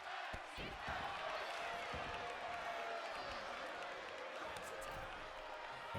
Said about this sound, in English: And you hear the crowd chanting tag team wrestling.